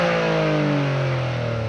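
A 2023 Toyota GR Corolla's three-cylinder engine heard from outside, a loud, steady, bassy drone with strong low harmonics that shift slightly as it runs, with no talking over it.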